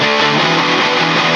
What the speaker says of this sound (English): It's an electric guitar, there's distortion on it, and it's basically just strumming.